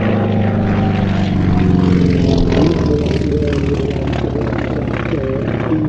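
A Corsair naval fighter's piston engine and propeller drone steadily at close range, a loud, throbbing roar that holds constant throughout with no break.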